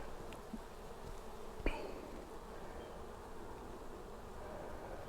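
Honeybees hum around an open hive in a faint, steady background drone, with a single sharp knock partway through and no talking.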